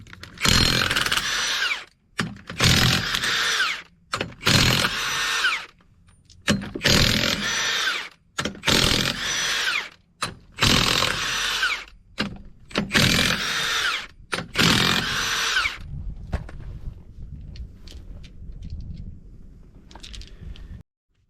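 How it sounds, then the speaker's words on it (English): A pneumatic impact wrench with a 27mm socket spins off the sprocket nuts on a Bobcat T750 track loader. It fires about nine loud, close, hammering bursts separated by short pauses, then drops to a quieter mechanical rattle. "I got a 27mm on my impact."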